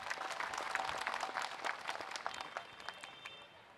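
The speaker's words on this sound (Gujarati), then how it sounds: "છૂટક નહીં જથ્થા બંધ તાળીઓથી વધાવો" An audience at a stage event claps together, with a dense patter of applause that thins out and fades toward the end, heard from within the hall at moderate distance.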